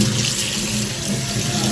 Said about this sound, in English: we're going to rinse them thoroughly. So you want to rinse them until it comes out clear.